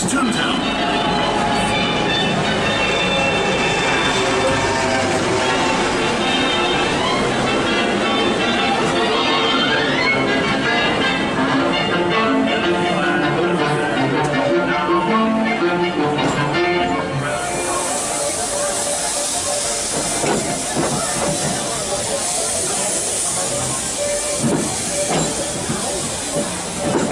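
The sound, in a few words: Disneyland Railroad steam train running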